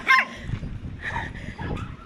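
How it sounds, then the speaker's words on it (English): Small chihuahuas yapping in a quiet remote Mexican village street, a sharp close bark up front followed by scattered softer yips and whimpers over low background rumble. "there's a chihuahua over there"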